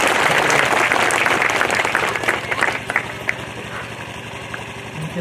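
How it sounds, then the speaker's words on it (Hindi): A church congregation at a thanksgiving Mass claps loudly and steadily, the dense applause tapering slightly toward the end while a low rhythmic hum runs beneath it. "जोर से ताली बजा दीजिए"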